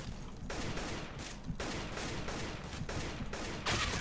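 Rapid automatic gunfire in the video game Counter-Strike: Global Offensive comes in several sustained bursts separated by short gaps, loud and close, with no talk.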